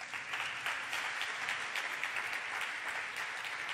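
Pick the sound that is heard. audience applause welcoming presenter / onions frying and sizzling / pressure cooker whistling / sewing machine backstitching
audience applause welcoming presenter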